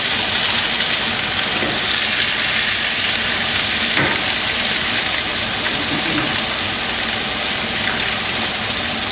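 Ribeye cap steaks searing in a ripping hot pan of oil: a loud, dense, continuous sizzle and spatter, close by and unbroken.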